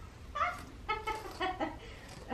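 Chickens cluck in a few short bursts, close by, with a quiet background between calls.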